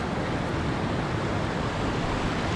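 Water surges from an opened dam in a loud, unbroken roar of rushing flow that stays dense and steady throughout, close and with no voices.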